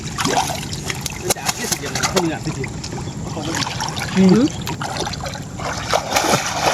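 People diving and splashing in a river during an evening village fishing contest, with irregular water splashes and trickles under frequent nearby voices and shouts.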